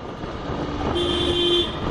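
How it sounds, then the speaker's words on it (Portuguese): A car horn sounds from a passing car on a road amid traffic noise, a single sustained honk of under a second rising over the street din. "Oxe, a buzina de carro."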